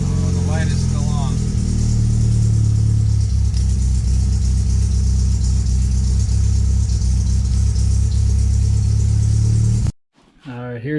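Datsun 521 pickup engine running after a cold start, a loud steady idle rumble under a speaking voice at the start, cutting off abruptly near the end as talk resumes.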